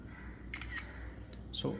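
An iPhone 16 camera fires a single crisp shutter click near the end while someone talks in Tamil.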